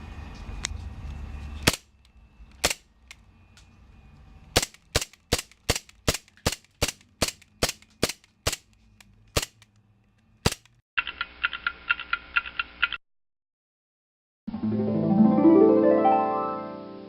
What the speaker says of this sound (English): the first part is making the craters, and we're going to use the CO2 gun to do that